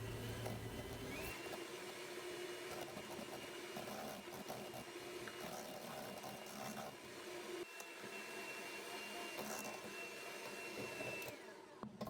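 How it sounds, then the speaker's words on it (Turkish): Whipped cream powder being beaten with about a glass of milk until thick, a steady continuous electric-mixer whir running evenly throughout with slight fluctuations, close and moderately loud. "1 su bardağına yakında süt ekliyorum ve kıvam alana kadar karıştırıyorum"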